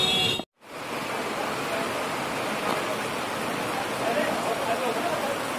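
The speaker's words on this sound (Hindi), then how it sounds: "बहुत तेज बारिश हो रही है यहाँ पे।" Heavy rain pouring down on a road in the Uttarakhand hills, a steady dense hiss after a brief cut at the start, loud and continuous.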